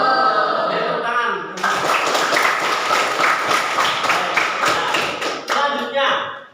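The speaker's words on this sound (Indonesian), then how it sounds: "Oke, tepuk tangan." A classroom group claps in a school lesson, a burst of rhythmic hand clapping lasting about four seconds after a voice speaks, then talk resumes as it ends.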